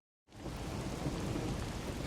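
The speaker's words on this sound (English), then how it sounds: "The faint sound of a ticking clock melts against the sound of rain." Steady rain and a low rumble of thunder in the video game Rain Code, starting abruptly after a moment of silence and holding as a dense, loud, continuous downpour with no speech.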